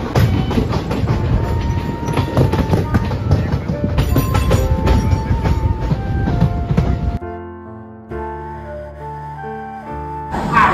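The Howrah–Kalka Netaji Express (12311) runs at about 100 km/h, making a loud, steady rumble with rhythmic wheel clatter from inside the coach. Near the end it drops to a quieter hum with some tonal sounds.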